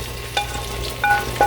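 Pre-cooked chicken frying in a little oil in a hot skillet, a steady close sizzle with a few sharp stirring clinks over it.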